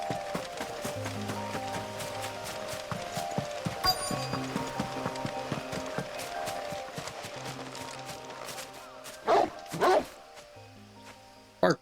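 A dog in the Final Fantasy 16 video game barks repeatedly in sharp bursts over steady in-game music, with a couple of louder barks near the end.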